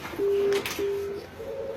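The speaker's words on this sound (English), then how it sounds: "the extension called is ringing" A VoIP phone extension on a PBX system rings back: two short, steady tonal bursts, then a fainter third tone trailing off, heard close and without any voices.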